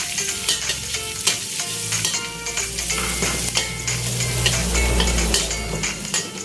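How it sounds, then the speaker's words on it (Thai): Garlic sizzles in hot oil with a constant crackle, while a utensil scrapes and stirs the pan in irregular strokes. "เดี๋ยวระเทียมลงไปเจียวนะคะ"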